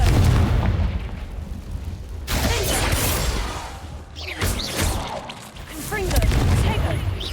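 Confringo fire spell blasts in Hogwarts Legacy, a run of loud booming bursts with crackling fiery tails rolling over one another, one sharp onset at mid-clip and another late, under a steady low rumble with some game voices in the mix.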